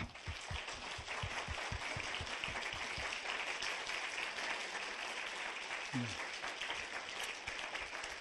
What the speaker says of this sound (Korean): 우리 하나님께 영광 돌리는 박수 한번 합시다